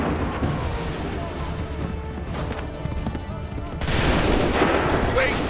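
Musket volleys crackle in an Assassin's Creed 3 battle, dense overlapping gunfire and clatter throughout that swells louder near the end, with shouted voices mixed in.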